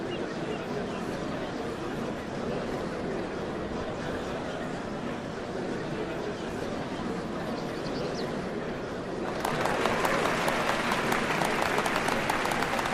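Crowd applause fills a scene in Final Fantasy XIV as a large gathering of spectators claps steadily, dense and continuous, growing brighter and louder in the final few seconds.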